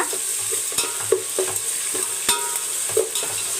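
Onion and prawns sauté together in a pan for a prawn thokku, giving a continuous near sizzle punctuated by regular spatula scrapes and taps, with no voices.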